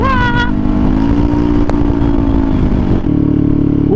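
A brand-new Inmax Turbo motorcycle goes by close and loud, its engine droning steadily with a rising pitch and a clank midway. Someone speaks over it near the start.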